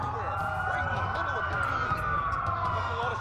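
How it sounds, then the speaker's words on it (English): Police sirens wailing in the video game Watch Dogs, a continuous rising and falling tone from several vehicles over a low rumble, steady and fairly loud. "That's a lot of sirens for a blackout."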